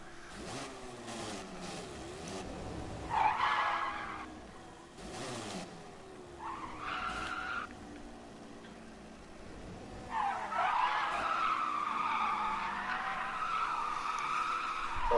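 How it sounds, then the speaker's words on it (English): Tires squeal repeatedly during burnouts in GT Sport, a race car engine revving steadily underneath while screeching bursts rise and fall, loudest toward the end. "I think I've done enough burnouts before I accidentally shred all 4 of these tiny tires"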